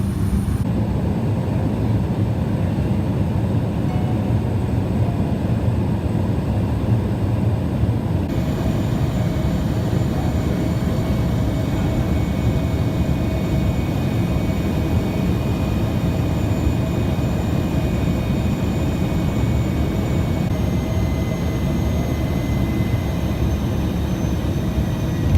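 Float plane flying from Lake Union toward Victoria Island, heard from the co-pilot's seat as a steady, loud engine and propeller drone that holds without a break throughout.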